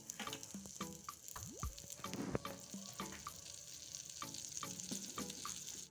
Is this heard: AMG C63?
no